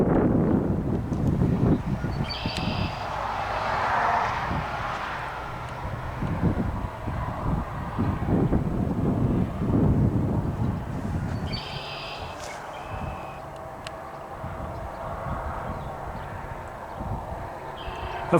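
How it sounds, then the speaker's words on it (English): Steady outdoor wind buffeting a microphone, a broad low rumble that swells and eases throughout, with faint distant clip-clop-like knocks and occasional high tones near a finished Mortal Kombat 3 arcade cabinet. "I'm sorry if it's a bit windy, if you can't hear me"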